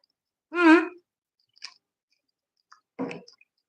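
Someone eats crunchy bistec a la mexicana: a short voiced hum comes first, then a small crisp crunch and a louder, grainier crunching bite, with quiet pauses between them, close up.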